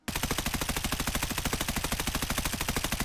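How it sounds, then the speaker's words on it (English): A scoped automatic weapon in a shooter video game fires a fast, steady, loud stream of shots, close and uninterrupted for about three seconds with no talking. "as I keep shooting, you can see that the scope is constantly bouncing"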